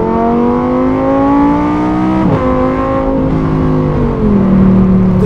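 Lamborghini Huracan GT3 engine in a street-driven car, a loud steady drone with strong harmonics that rise and fall as revs shift, continuous throughout with no talk.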